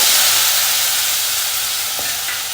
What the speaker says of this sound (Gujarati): એની સાથે હિંગ અને હળદરનો વઘાર કરવાનો છે